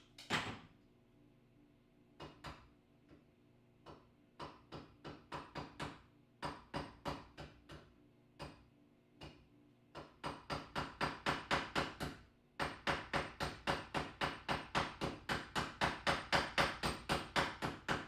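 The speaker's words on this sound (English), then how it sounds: "Just firing some rivets into the front to mount the hinge." Rivets are set into armor to mount a hinge, with sharp metallic hammer strikes at first sparse and irregular, then settling into fast, steady repeated rapping runs, close and clear.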